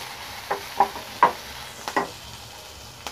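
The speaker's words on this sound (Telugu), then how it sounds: "ముందు ఇందులో చిన్నగా కట్ చేసుకున్న పచ్చిమిర్చి, ఇవన్నింటిని బాగా ఫ్రై చేసుకోవాలి" Finely chopped green chillies fry in a pan for an egg Manchurian, giving a few sharp crackles and pops at irregular intervals over a quiet, low sizzle, with no talking.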